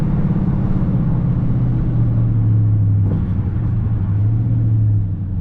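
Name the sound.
Dodge Charger RT engine accelerating in first gear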